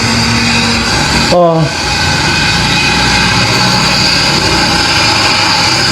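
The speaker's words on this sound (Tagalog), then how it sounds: "Napakarami po itong mga helikopter na ito na hindi magkamayaw kung saan pupunta." Many helicopters fly overhead, a steady low engine drone with a humming tone throughout and one passing whine sweeping down briefly, heard loud and close under no talk.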